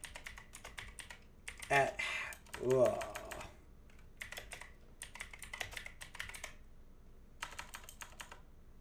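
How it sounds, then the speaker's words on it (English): A very clicky computer keyboard clatters in quick bursts of typing, close and sharp, with someone talking over it at moments. "sorry for my keyboard, it's the clickiest thing in the world, I know"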